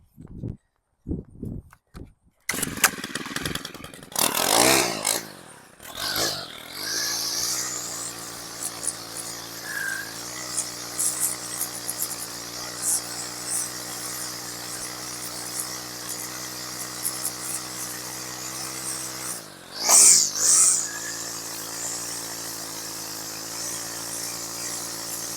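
A gas weed whacker trimming grass runs as a steady, close engine drone with a high whine for most of the stretch, briefly dropping out and revving back up near the end, with no talk.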